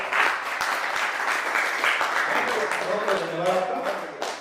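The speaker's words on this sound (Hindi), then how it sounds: "बहुत एक बार जोरदार तालियां" A live audience at a Hindi poetry recital breaks into loud applause, a dense clatter of many hands that carries on steadily, with a voice speaking over the latter part.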